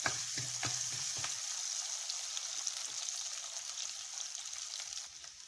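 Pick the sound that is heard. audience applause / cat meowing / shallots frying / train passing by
shallots frying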